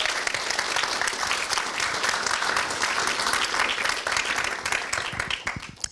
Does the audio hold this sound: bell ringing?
no